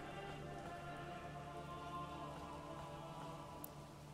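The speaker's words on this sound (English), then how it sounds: "It's fucking raining now." Rain falling in the Manor Lords game, a soft, steady hiss of rain with faint tonal background ambience, even and quiet throughout with no voices.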